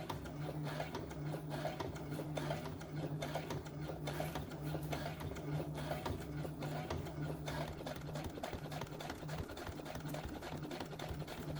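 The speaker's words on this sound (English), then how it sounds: "So again, we want to back stitch. And we're just going to sew down." A sewing machine runs steadily at close range, back stitching and then sewing down fabric for a Simplicity 1559 outfit, with a constant mechanical hum and needle clatter throughout and no talk.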